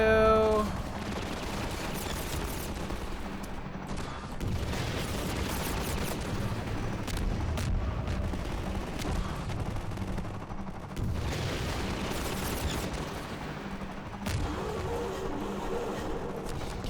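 In Half-Life 2, missile launches and explosions roar in a dense, sustained barrage of blasts and rumbling fire, loud and continuous with surges.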